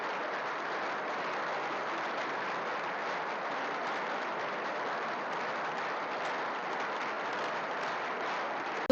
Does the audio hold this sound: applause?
yes